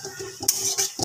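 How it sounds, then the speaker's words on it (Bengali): A spoon stirs a chilli soybean mixture with a splash of dark soy sauce in a pan, giving a few quick scraping, clattering strokes over a low sizzle, close and fairly loud. "এটা দিয়ে আরেকবার মিক্স করব।"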